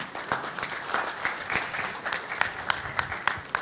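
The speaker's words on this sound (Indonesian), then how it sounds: "Tepuk tangan buat mereka." A small group at a PSSI press conference with chairman Erick Thohir claps in scattered, uneven bursts, sharp individual claps standing out over a thin, modest applause.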